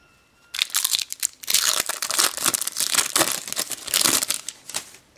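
A Panini Champions League 2012/13 sticker sachet tears open and its foil wrapper crinkles and crunches loudly and close by for several seconds, in a steady run of sharp rustling bursts.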